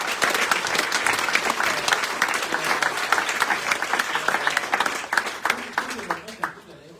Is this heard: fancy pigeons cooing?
no